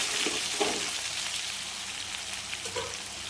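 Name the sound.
boiled potatoes added to hot oil tempering, frying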